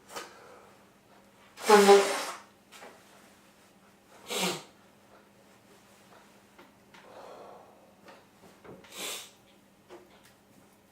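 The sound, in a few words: sneeze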